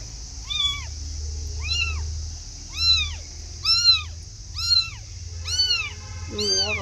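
Mother cat nursing her kittens meows repeatedly, a series of six or seven clear, drawn-out calls at close range, with a low murmur of voices underneath.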